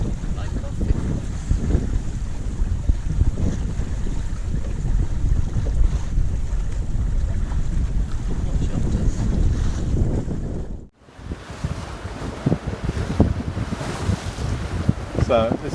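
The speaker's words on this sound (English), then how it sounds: "So this is us sailing down to the bottom end towards the McCormack Islands" Steady wind roars across the microphone with water rushing past a moving sailboat off Scotland; the gusty noise briefly drops out before resuming.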